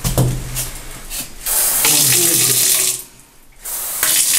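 Hot water runs from a tap in a shelter washroom, a loud steady splashing stream that briefly drops off, then resumes at full force.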